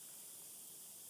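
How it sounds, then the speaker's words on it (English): Fine, steady hiss of tiny sediment particles moving across the rocky bed of the Yukon River, a faint, even sizzle with no pauses or voices. "That sizzling sound."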